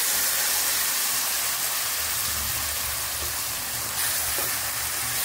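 Marinated brinjal fries in hot oil with a steady, dense sizzling hiss that continues without a break throughout, close and fairly loud, with no voices over it.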